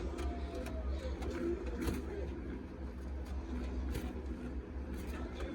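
Male pigeons cooing in courtship, soft low coos repeating under a steady background hum, with a few sharper clicks and knocks scattered through.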